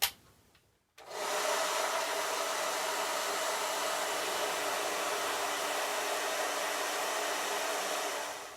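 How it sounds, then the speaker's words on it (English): A hair dryer switches on after a brief quiet moment and blows with a loud, steady whoosh right up close until the end. "got a hair dryer down here from something else I was working on"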